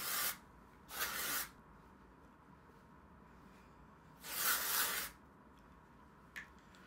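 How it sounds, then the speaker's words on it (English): Short hissing bursts from a hair spray can, two clear sprays close to the ear separated by a pause, followed by a faint tap, with no talking. "I kind of spray the product in as I drop it"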